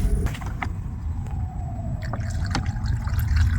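Diluted coolant mixed with water pours into the cooling system of a 2005-era BMW E61 3.0d, a steady liquid trickle and gurgle running throughout at close range with a few small drips.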